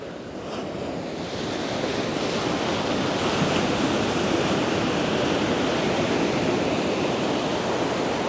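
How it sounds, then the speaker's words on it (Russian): Ocean waves on Kata beach in Phuket roar in a loud, continuous wash of surf, with wind buffeting the microphone throughout. "И как волна вымыла пляж сам."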